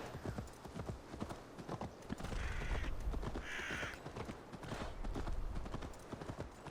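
Horse hooves clip-clop steadily at close range in the video game Assassin's Creed Valhalla, a brisk rhythmic trot accompanied by crow caws and a brief whinny.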